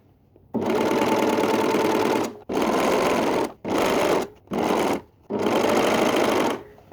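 A sewing machine stitches a trouser leg hem in loud, close bursts of rapid whirring, five runs separated by short pauses, with no voices.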